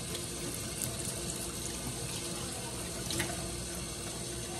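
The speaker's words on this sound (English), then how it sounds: "But I'm gonna wash my hands." A tap runs steadily into a sink while someone washes their hands, a constant close rush of water with no talking.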